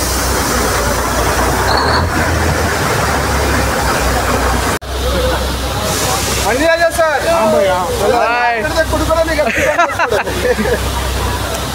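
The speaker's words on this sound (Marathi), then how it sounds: "बघा टॉय ट्रेन आली. Toy train" A Matheran toy train pulls in at a hill station in the rain, its wheels squealing in curved, rising tones and the cars rumbling, amid a steady wash of crowd chatter and people talking nearby.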